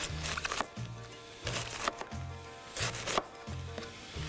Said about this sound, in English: we're gonna shred up or chop up some of that cabbage with our trusty tool, the cleaver